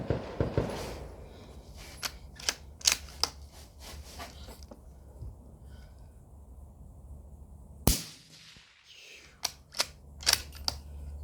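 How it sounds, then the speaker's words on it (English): A suppressed .17 HMR rifle firing, a series of sharp quiet cracks spaced irregularly with one louder report midway, over faint outdoor background noise. "Doing a suppressed 17 HMR."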